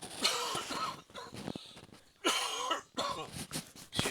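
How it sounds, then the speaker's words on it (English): Several harsh residual coughs after an illness come in bursts, close to the microphone, separated by short pauses and breaths. "I'm gonna cough here."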